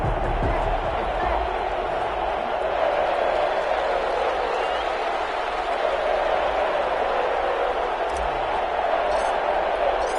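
A football stadium crowd before a Cleveland Browns vs Las Vegas Raiders NFL game keeps up a dense, steady roar throughout, with a commentator's voice running over it.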